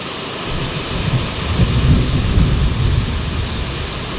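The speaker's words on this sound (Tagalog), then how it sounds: "Napakalakas po ng ulan dito." Heavy rain pours steadily while low thunder rumbles and swells underneath, loud and continuous with no voices.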